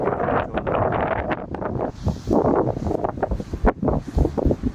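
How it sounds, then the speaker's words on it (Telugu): Steady gusts of cool wind buffet the microphone at Eden Beach, Pondicherry, in a loud, rumbling roar, with brief dips and bursts throughout. "చల్లటి గాలులు, నేచర్ సూపర్గా ఉంది"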